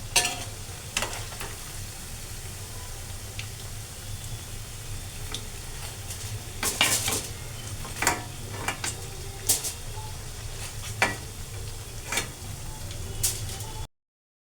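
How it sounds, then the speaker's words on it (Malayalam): Onion vadas and appams sizzle steadily in hot oil while a slotted spoon stirs and lifts them out, with scattered scraping clicks over the continuous frying hiss. "നമുക്ക് ഇതെല്ലാം ഈ എണ്ണയിൽ നിന്ന് കോരിയെടുക്കാം."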